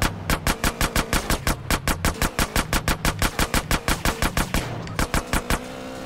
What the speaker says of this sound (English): And we got the baller shooting at us.